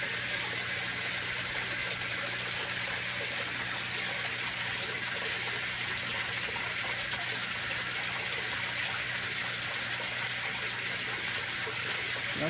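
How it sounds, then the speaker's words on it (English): Water gushes steadily out of an aquaponics mineralization tank, a loud, continuous close-up rush and splash with no pauses. "That's about how much comes out of the mineralization tank."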